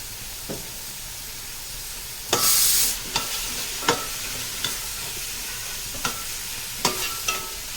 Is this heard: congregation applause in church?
no